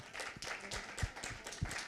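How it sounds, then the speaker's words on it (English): Scattered audience clapping at a school reading competition final, a thin and fairly quiet patter of hands with a few sharper, closer claps standing out from the spread. "I think they all deserve another round of applause."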